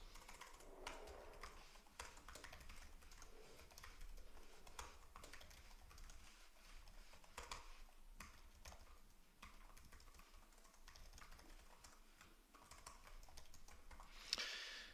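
Steady, quiet typing on a computer keyboard as C++ code is entered, a continuous patter of key clicks over faint room noise.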